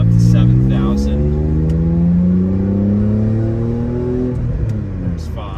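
A BMW E46 M3 with the S54 engine revs with a rising whine toward its 7,000 rpm redline, then eases off, loud and close from inside the car, with a voice talking over it.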